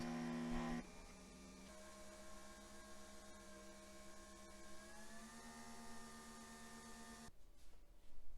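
A Nespresso machine brewing a Double Espresso Chiaro gives off a steady tonal pump hum and whir that shifts pitch partway through, then stops, heard close and fairly quiet with no voices.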